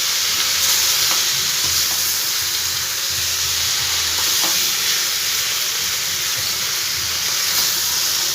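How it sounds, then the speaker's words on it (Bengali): Vegetarian curry of pumpkin, potato and drumstick with a little sugar stir-frying in a pan, a loud continuous sizzle and hiss close by with faint scraping of the spoon now and then. "আরও আমি 1 থেকে 2 সেকেন্ডের মতন একটু কষিয়ে নেব"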